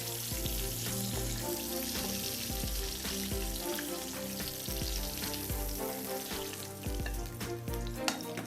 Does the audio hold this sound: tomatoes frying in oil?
yes